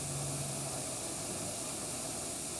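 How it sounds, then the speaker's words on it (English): Steady broadband hiss of steam venting from a pressure canner while snap beans are being canned, continuous and fairly loud throughout with no talking. "So now I know all the air is out of the canner, only steam inside."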